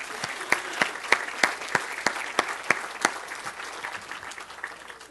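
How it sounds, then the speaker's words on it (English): Audience applause at a doctoral hooding ceremony for an Ed.D in Educational Leadership, a steady wash of clapping with sharp individual claps standing out, moderately loud and sustained throughout. "Hey, you get applause for that."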